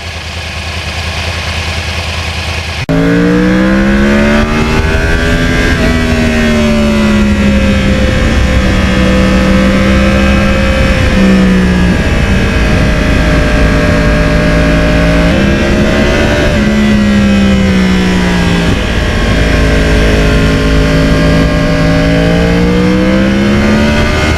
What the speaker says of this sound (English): Boy, I just love the torque on this engine.